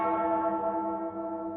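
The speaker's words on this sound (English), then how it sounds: "the notification bell will help to notify you via a bell" A single bell-like notification chime rings out clearly and sustains with a rich, ringing tone that slowly decays over about a second and a half, with no voices.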